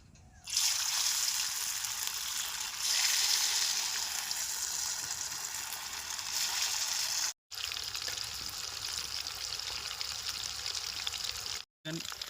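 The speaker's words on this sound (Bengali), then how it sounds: "তেল গরম হয়ে গেছে, এবার চিকেনটা ভেজে নেবো" Chicken frying in hot soybean oil in a wok, a steady bright sizzle that swells at the start, cuts out briefly twice and returns, with no speech over it.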